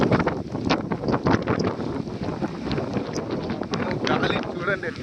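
Strong wind buffets the microphone on the Mandalpatti trek in Coorg, a loud, continuous rumbling roar with gusty surges throughout, close and dominant.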